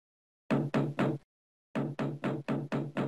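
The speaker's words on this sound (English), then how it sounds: "the frog hopped up to the castle door and knocked." Knocks on a castle door in a fairy tale: a group of three firm, evenly spaced raps, a pause, then six more in steady rhythm, close and loud.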